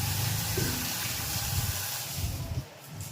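Water running steadily from a newly fitted shower diverter on a plumbing installation, a continuous hiss and splash close by with no talk over it.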